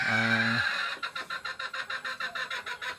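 Gamefowl broodcock in a backyard breeding pen, a short crow cut off by a fast run of rhythmic, evenly spaced clucks, fairly close.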